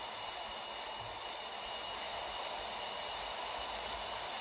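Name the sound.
Boeing 737 MAX airplane engine in flight simulator game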